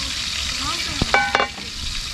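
Ginger garlic paste and spices sautéing in a pot over an outdoor cooking fire, a steady sizzle with a few sharp clinks of the stirring spoon near the middle.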